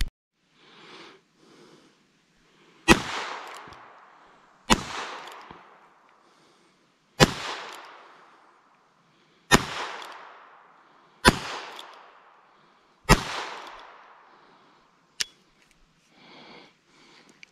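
A cheap $119 shotgun fired at trap shooting at camp: six sharp, loud blasts spaced a couple of seconds apart outdoors, each ringing briefly, with quieter handling and breathing sounds around them.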